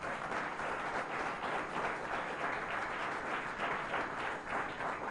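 Dense, sustained applause from a church crowd in Bonaire, a continuous wash of clapping heard from some distance, with no talking over it.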